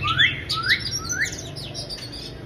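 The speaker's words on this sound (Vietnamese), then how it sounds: "Phía sau đây là một trong các chú chè than đang vừa chơi tại nhà này." An oriental magpie-robin sings nearby, giving three clear rising whistled notes followed by quicker chirps over a low, steady background hum.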